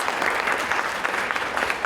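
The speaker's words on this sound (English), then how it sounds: "Let's give her a big round of applause." Audience applause at an education solutions showcase event, a loud, steady round of clapping from a crowd filling the whole moment.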